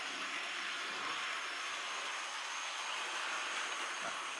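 A model locomotive fitted with a Lenz Set101 decoder drives along the track, giving a steady, faint motor whir and hum that barely changes over the few seconds, with no talking.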